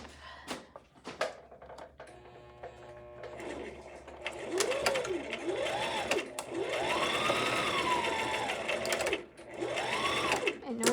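A sewing machine stitches a scrunchie seam closed, close and loud in several whirring bursts with rising and falling motor pitch, separated by brief pauses, with a person talking at the start.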